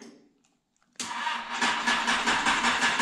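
A motorcycle engine cranks and catches after its fuel tank, fuel line and fuel pump wiring were reconnected, bursting abruptly into a loud, steady running rumble that continues close up to the end.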